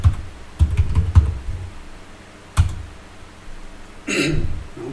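Root password typed on a computer keyboard: a few quick, close key clicks in short clusters, a single tap, then a softer rustle near the end, otherwise quiet.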